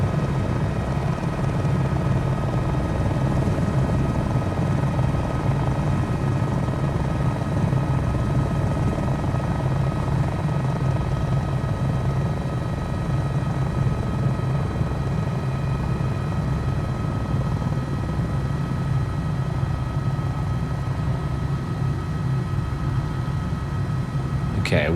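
A simulated helicopter in Microsoft Flight Simulator 2020 drones on continuously through the whole stretch with a steady rotor and engine hum, loud and even, with no words.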